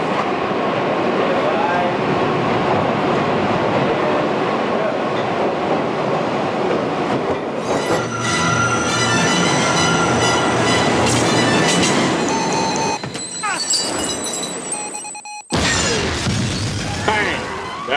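A subway train rumbles loudly on the tracks in a film scene, wheels clattering and screeching as it pulls in, with a sharp metallic squeal and a sudden drop near the end.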